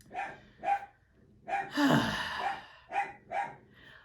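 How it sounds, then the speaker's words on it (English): A dog barks repeatedly in short bursts, slightly distant, with a breathy rushing noise in the middle and no talking. "I'm sure you don't want to hear the dog barking."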